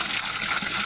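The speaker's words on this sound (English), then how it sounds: "I've got my system actually draining right now" Water steadily drains and gushes through a hydroponic system, a continuous close rushing hiss with no pauses over the short moment.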